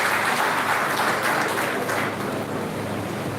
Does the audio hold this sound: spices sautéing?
no